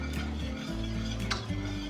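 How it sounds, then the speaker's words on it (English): A spoon scrapes and stirs shredded cheddar melting in a pan, soft clinks and scraping strokes over a steady low kitchen hum, close and fairly quiet. "We're just gonna stir this around and let this cheese melt."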